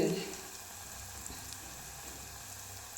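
Ingredients sizzle in hot oil in a pan while cooking mango ginger, a soft steady frying hiss that starts slightly louder and then continues faintly and evenly to the end.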